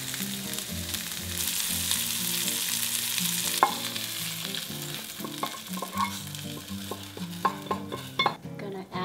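Garlic and peeled shrimp frying in a hot pan, a continuous close sizzle with scattered clinks and scrapes of a utensil against the pan, growing more broken toward the end.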